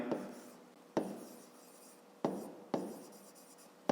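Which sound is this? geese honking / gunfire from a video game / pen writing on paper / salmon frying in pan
pen writing on paper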